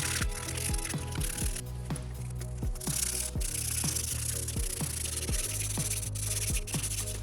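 Hand sanding of an automotive valve cover being prepped for spray paint, a steady continuous scrubbing rasp with repeated rhythmic strokes, close and fairly loud throughout.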